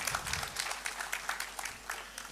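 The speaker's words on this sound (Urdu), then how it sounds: "تو خصوصی تالیاں ان کی پوری فیملی کے لیے" Audience applause at a speech at a sports event in Islamabad, a moderate crowd clapping steadily at some distance for a couple of seconds.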